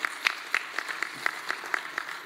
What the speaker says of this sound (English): just a round of applause for our Board of Education